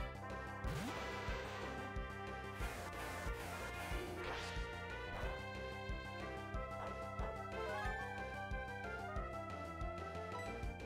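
U-turn attack from the Pokemon Sterling Silver video game: sharp whooshing swipes and impact smacks over looping in-game battle music, several hits clustered early, then the tune carries on.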